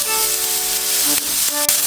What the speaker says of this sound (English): Want to hear that sizzle.